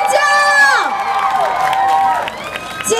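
An event crowd cheers and screams for a film director at a trailer premiere, with rising and falling shrill shrieks and whoops that come loud and close across the whole stretch.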